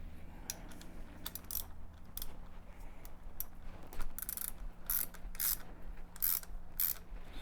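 Bolts being tightened on a Mercury 150 Pro XS outboard motor, a faint run of quick ratchet clicks and metallic taps in irregular bursts over a quiet low hum.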